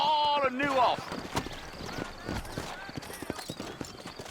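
Horses in Red Dead Redemption clip-clop with steady hoofbeats in a frontier town, opening with a brief whinny and then irregular hollow hoof strikes, with someone talking over them.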